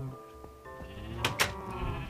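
A Minecraft sheep bleats twice in quick succession, with clear, moderately loud nasal calls over a quiet in-game background.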